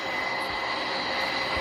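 In the game Turboprop Flight Simulator, an airplane's engine gives a steady, loud, sustained whining drone with no break, heard alone.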